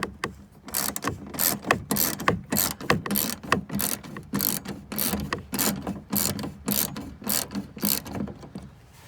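A ratchet loosens a bolt on a Jeep Grand Cherokee door during window regulator replacement, a close, rapid series of clicking strokes in an uneven rhythm with short pauses between pulls.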